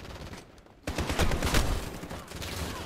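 Rapid automatic gunfire in Call of Duty: Modern Warfare erupts after a brief lull, a dense, loud fusillade of shots that keeps rattling to the end.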